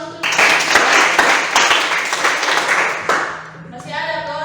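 Students in a classroom break into a burst of hand clapping that lasts about three seconds and then fades, with voices chattering over it as it ends.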